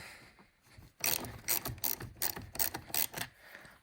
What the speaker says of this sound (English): there are two nuts right here, 1, 2, they're both 10 millimeter, and you just need to loosen them